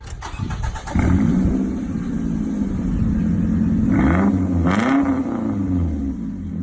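A car with a badly modified exhaust revs hard after a brief quiet start, its raspy, droning note rising and falling through several loud, close throttle blips.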